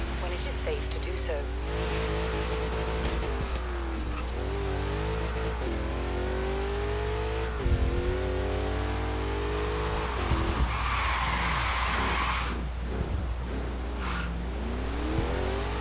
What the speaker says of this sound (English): It's a Toyota Hilux